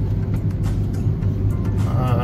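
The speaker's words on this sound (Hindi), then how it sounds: "गाड़ी चल रही है" A car drives along a hilly road in Goa, giving a steady, continuous engine and road rumble from inside the vehicle, with no clear talking.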